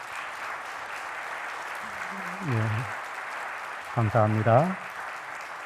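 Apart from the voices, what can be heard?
applause from congregation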